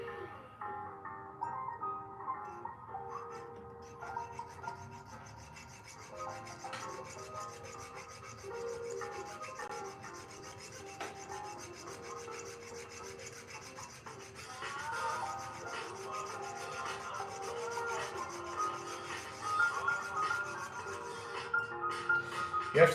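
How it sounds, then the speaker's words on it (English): A jeweller's saw cuts through thick silver wire to make jump rings, giving a steady, rhythmic rasping that runs the whole time and grows slightly louder toward the end. "Right, let's get the sawing started."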